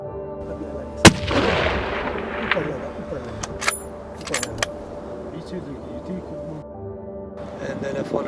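A sharp rifle shot cracks out in mountain terrain during a Himalayan ibex hunt in Pakistan, followed by a few fainter sharp reports and clicks, with people talking quietly nearby.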